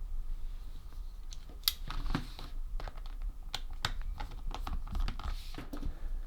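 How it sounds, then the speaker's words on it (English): A Phillips 00 crosshead screwdriver works small screws out of a Nintendo Switch Lite handheld console, giving a close, quiet run of tiny clicks and scrapes over a low steady hum. "we're going to undo the screw here, here, and here and here."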